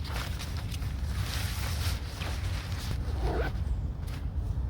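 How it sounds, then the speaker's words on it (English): Zipper closing on the fabric carry bag of a folded pop-up tent outdoors, a soft rasping zip under steady wind noise, quiet and close. "it zips up all in one little bag"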